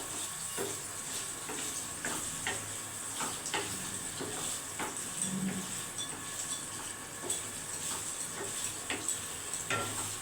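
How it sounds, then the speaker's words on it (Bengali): Paneer pieces fry in a pan over low heat, giving a steady soft sizzle with scattered light scraping and stirring clicks throughout, fairly close and moderate in level, no talking. "হালকা আঁচে কিন্তু আমি পনিরগুলো ভেজে দিচ্ছি, কম সময়ের মধ্যে ভাজা হয়ে যাবে।"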